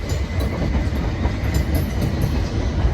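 Train passing through Clapham Junction station, a steady loud low rumble of wheels on rails with a faint rhythmic clatter running throughout and no talk.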